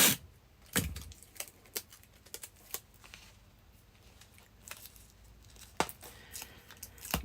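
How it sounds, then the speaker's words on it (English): Sticky sellotape being pulled, torn and pressed onto a craft card, giving a few sharp rips and crackles among quieter rustling and handling noises, close by. "I'm going to sellotape it on"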